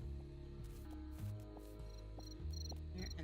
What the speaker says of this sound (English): See, that's a cricket.